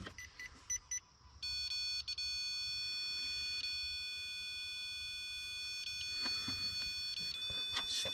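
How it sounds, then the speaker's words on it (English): A cell phone sounds a shrill electronic tone outdoors at a century-old wildlife refuge: a few short beeps, then a steady, piercing multi-tone ring that holds for several seconds, close and loud. "It's the cell phone."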